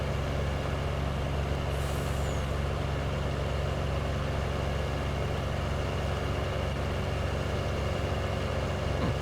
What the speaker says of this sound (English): Only going 93 mile an hour here with a fuel truck.